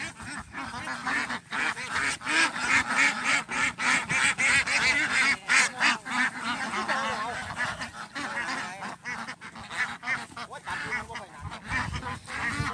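A dense chorus of ducks quacking and honking continuously at a duck farm in Isan, Thailand, loud and close, like a crowded poultry market, with faint voices mixed in.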